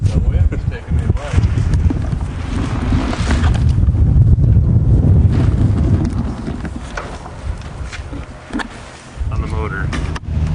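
Strong wind buffeting outdoors near a boat, a loud, rough, fluctuating rush over the microphone with people talking at intervals.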